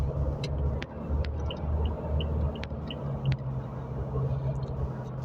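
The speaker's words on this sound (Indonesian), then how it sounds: "suara mesin raungan diesel ya, kayak pada umumnya gitu." A Toyota Fortuner GR-S Tetra Drive's diesel engine drones with a low, steady roar as the SUV accelerates, heard from inside the cabin at moderate volume with no talking.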